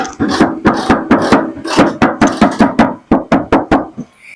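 Rapid series of about sixteen hollow knocks on a car body panel, close and loud, slightly speeding up toward the end.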